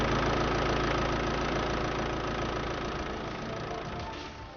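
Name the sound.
Austin Maestro MDi diesel engine idling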